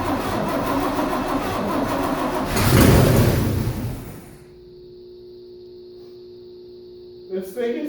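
An Intercamino engine running on primed gasoline roars loudly near the microphone, revs briefly, then dies away. After that comes a quieter stretch with a steady tone, and a short burst of sound follows near the end.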